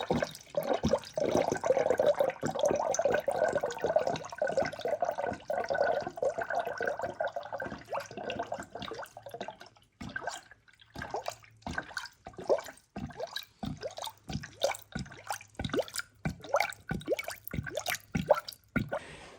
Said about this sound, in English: we just got to fill up the coolant